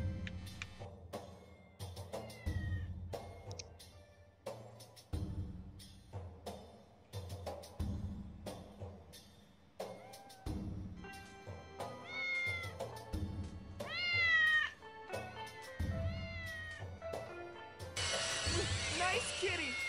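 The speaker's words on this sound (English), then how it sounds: "Nice kitty! Have some catnip!" Cats meowing in the video game Postal 2, with rising and falling meows clustered near the end of the clip, mixed with ratcheting mechanical clicks and busy game sounds throughout.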